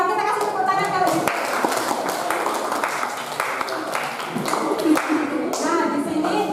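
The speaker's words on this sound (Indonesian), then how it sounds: "Kita kasih tepuk tangan kalau gitu." Students in a classroom clap for a winning group, a scattered, moderately loud patter of hands mixed with talking voices throughout.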